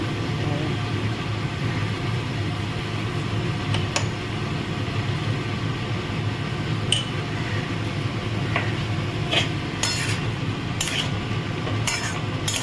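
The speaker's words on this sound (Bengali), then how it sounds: "এখন আমি সবজির সঙ্গে মশলাটা ভালো করে কষিয়ে নেব" Vegetables stir-fried with spice paste in a pan for a papaya and prawn dish, giving a steady, close sizzle with scattered sharp clinks and scrapes of a spatula against the metal.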